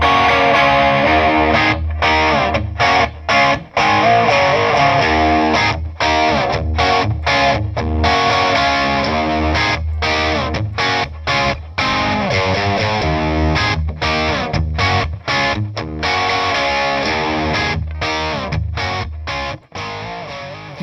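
Heavily distorted electric guitar in the Brownsound style, played through a 100W Plexi amp and captured with a Shure 58 mic, riffs loudly with rhythmic chugs and short sharp stops between phrases.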